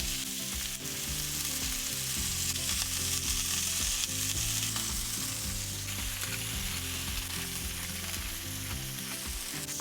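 A steak pan-searing in olive oil with salt and pepper gives a loud, continuous close sizzle and crackle that holds evenly throughout, with no talking.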